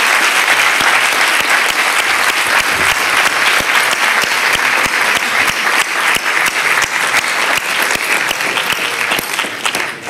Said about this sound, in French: Je vous demande vraiment d'applaudir nos intervenantes et je les remercie infiniment.